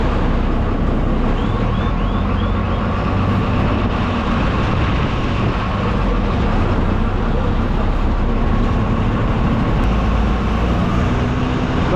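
Ganeshpeth bus stand in Nagpur, where MSRTC buses such as Shivshahi, Shivneri and Lalpari stand, gives a loud, steady wash of engine rumble and traffic noise with no pause, and no voices stand out.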